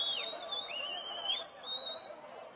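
High whistles blown by the crowd at an outdoor election rally, several shrill rising blasts in quick succession, fairly loud over a murmuring crowd and a voice.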